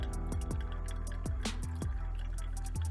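Panama Geisha coffee dripping through a Loveramix cone brewer, a rapid irregular patter of small drops falling into liquid over a low steady hum.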